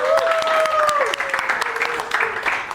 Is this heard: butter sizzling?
no